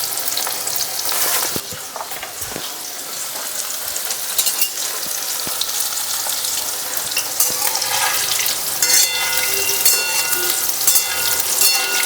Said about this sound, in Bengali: একটু লাল করে ভাজবো